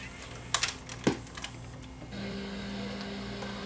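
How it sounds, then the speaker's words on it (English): A Sony EVS7000 video deck cues up a tape with a few quick mechanical clicks and clunks, then settles into a steady low transport hum, heard close with no voices. "so I cue the tape up"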